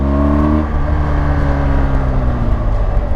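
A BMW GS 1200 motorcycle engine drones loudly and steadily while riding, its pitch easing slightly lower partway through, with no speech.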